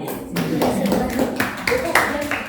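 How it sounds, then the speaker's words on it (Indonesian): Classroom applause for a student group, a dense wash of clapping hands running continuously, moderately loud and filling the room with a few sharper claps standing out. "Kita kasih aplaus ya untuk kelompok 1."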